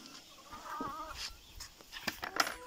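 Hens cluck and murmur softly nearby, with scattered pecks and small rustles as they feed on oats.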